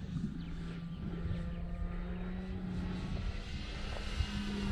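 A Great Avios Grand Tundra radio-controlled model airplane makes a low pass, its engine a steady, moderately loud drone that holds a constant pitch from start to finish, with no voices.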